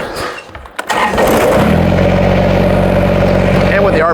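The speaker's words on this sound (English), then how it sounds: "And I'll go ahead and start the tractor again" A Kubota BX compact tractor engine cranks briefly and catches, then settles into a steady, loud low idle that runs close by to the end.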